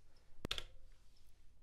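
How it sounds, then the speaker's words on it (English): A metronome on an Elektron Digitone synthesizer ticks faintly at a steady pace, with one sharper click standing out among the quiet, evenly spaced beats in an otherwise hushed room. "You can hear the metronome in the background"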